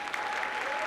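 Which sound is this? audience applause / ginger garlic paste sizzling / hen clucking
audience applause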